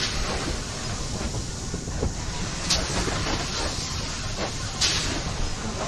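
A train rolls along in the video game Poppy Playtime Chapter 2. A loud, continuous rumble and hiss fill the clip, and a couple of brief metallic hissing bursts stand out above it.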